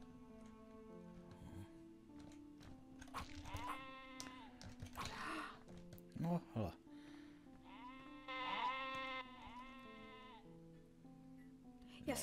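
Sheep in a 2007 video game bleat repeatedly in wavering, nasal cries at varied pitches, mixed with ticking game sounds while players talk over them.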